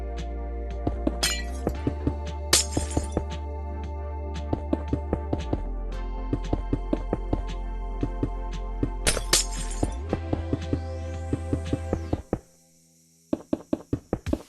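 Pieces of glass clink sharply against each other as they are joined at the corners, a steady series of close, bright taps over a continuous low hum, ending in a few isolated clinks.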